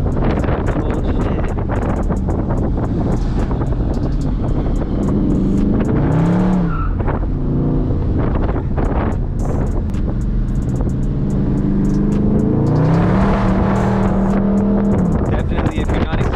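2020 Dodge Charger 392 Scat Pack Widebody driven on a canyon road, the V8 rising and falling in pitch through bends under heavy wind buffeting, loud and close, with people talking.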